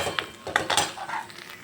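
A spoon stirs and scrapes a pan of cooking onions with ginger-garlic paste, giving a few sharp metallic clinks over a soft, steady background hiss.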